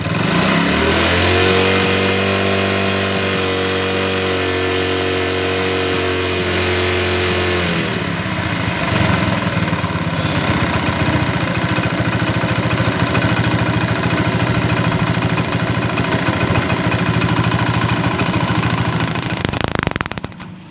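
A motorcycle with a starting problem runs close and loud during an ignition coil check, its engine revving with rising and falling pitch for several seconds before settling into a steady, rough idle that continues until it cuts off near the end.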